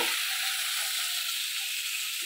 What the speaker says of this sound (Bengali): চিংড়ি মাছটা আমার ভাজা হয়ে গেছে